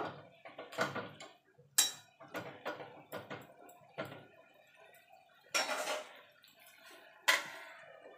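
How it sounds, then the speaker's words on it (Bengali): Metal clanks and taps from a cooking pot of mixed vegetable curry as its lid is handled and set on, several sharp separate knocks with quiet gaps between. "এবার এটাকে ঢাকা দিয়ে আমি রান্না করে নেব"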